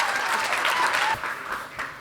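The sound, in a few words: audience applause for Gurdawar and Preeti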